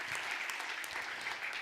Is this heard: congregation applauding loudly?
yes